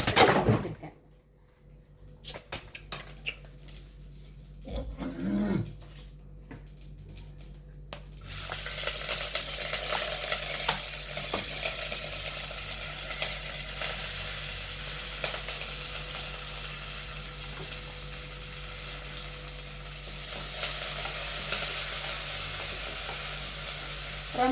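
Onions and curry leaves hiss and sizzle steadily in hot oil after a few clattering knocks, a loud continuous frying sound close by.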